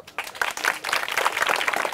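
Applause from an audience at a college freshers' music event, Tarang Music Freshers at Haladia College, a short burst of dense clapping that rises quickly and holds steady at moderate loudness.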